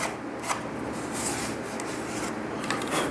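A fingernail file rasps back and forth over the lip of a Biker Scout helmet, a soft, close, continuous scratchy rubbing with a few brighter strokes, heard alone without talk.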